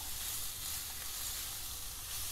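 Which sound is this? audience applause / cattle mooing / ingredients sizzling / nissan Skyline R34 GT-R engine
ingredients sizzling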